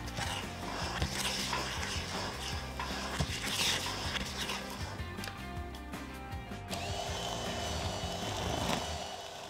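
Coconut cake batter made with vanilla, milk, sifted flour and baking powder being beaten with an electric mixer, a continuous near whirring hum with rattling against the bowl.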